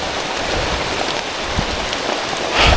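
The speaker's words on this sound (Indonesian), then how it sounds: "Kita hujan lagi di sini." Rain falls steadily on a slick, dark mountain trail during a descent, a dense even hiss of drops close by with a slight swell near the end and no voices.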